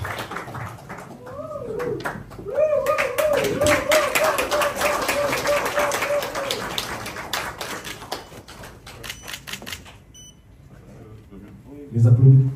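Scattered, hesitant applause at the formal handover ceremony between two Prime Ministers, sparse claps under speech and a steady tone, then fading before a louder voice.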